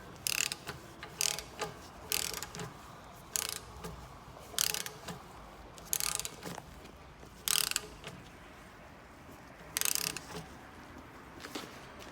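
Rapid bursts of ratchet wrench clicking while brake line fittings are tightened on a 2003 Ford Expedition, repeated short clusters of mechanical clicks with pauses between, close and clear, no talking.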